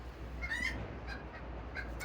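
Chickens in a chicken run give a few faint, brief clucks and squawks over a steady low background hum, spaced out across a couple of seconds.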